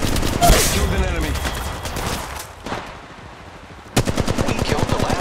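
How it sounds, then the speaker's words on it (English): Rapid automatic gunfire in a mobile shooter game, bursts of sharp shots rattling close, easing off into a quieter gap and then resuming hard. "Shots fired, and they're hitting me."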